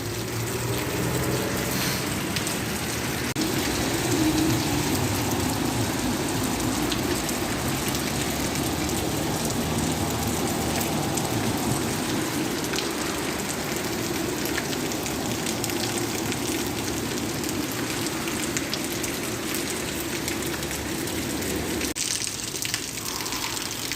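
Heavy rain downpour pours steadily during a bicycle tour in Turkey, a constant loud broadband hiss of water on surfaces with no talk, easing slightly near the end.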